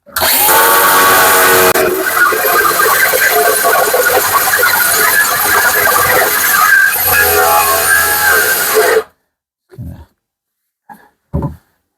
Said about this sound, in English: These are dry discs, but it does help to keep them a little bit cool.